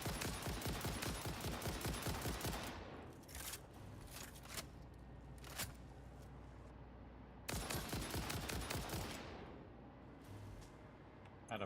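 Rapid bursts of automatic gunfire in the video game Satisfactory, a dense rattling volley at first, then a few sharp separate shots, and another loud burst that tapers away.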